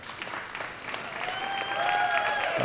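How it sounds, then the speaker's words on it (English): Audience applause for Omar Graham at an FSU football event, a fairly soft, even patter of clapping from a crowd, with a faint tonal whine rising toward the end. "How about a round of applause for Omar Graham here?"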